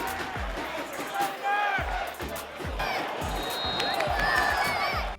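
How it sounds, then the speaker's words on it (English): A large crowd of football fans roars and cheers continuously at half-time, with voices and shouts mixed into the noisy stadium din. "the away fans may be applauding the football"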